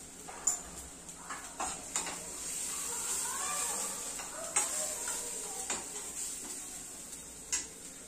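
Soft, steady frying hiss of onions in a pan as turmeric goes in, broken by several sharp ticks and light clinks of a spoon against the pan, close and quiet with no talking.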